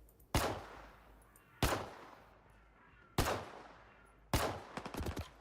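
A 1911 pistol firing in a shooter game, four sharp separate shots about a second apart. The last shot is followed by a quick rattle of echoes or casings, and the background is quiet between shots.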